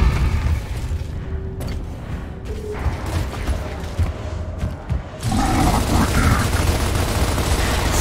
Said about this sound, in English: Another grub hole! Get a frag in there!